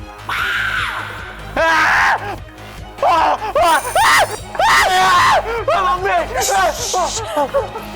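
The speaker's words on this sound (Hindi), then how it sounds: "सुहागरात के वक्त दुल्हन चिल्लाए समझ में आता है, लेकिन दूल्हे का इस तरह चिल्लाना" A groom on his wedding night in a Hindi serpent-fantasy TV drama lets out loud, repeated, drawn-out screams in rising and falling bursts, close and forceful, with a few sharp yells between them.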